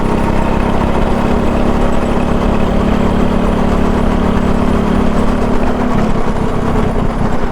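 A go-kart engine drones loudly and continuously while driving at speed around an outdoor track, a steady buzzing hum that holds one pitch and shifts slightly near the end.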